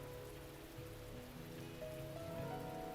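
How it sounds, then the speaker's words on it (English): Steady rain drums against a building in a visual novel scene, a dense, even patter that slowly builds in intensity, with faint soft tonal background music beneath it. "the sound of water drumming against the building seems to grow louder with the passage of time"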